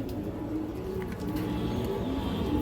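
Old-breed green-necked pigeons at a breeder's farm coo softly nearby in low, repeated rolling calls over a steady background murmur.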